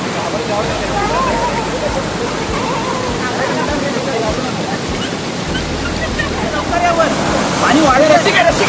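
A monsoon-swollen waterfall at a picnic spot near Mumbai pours in a loud, steady roar throughout, with people's voices faintly mixed in and the rush swelling toward the end.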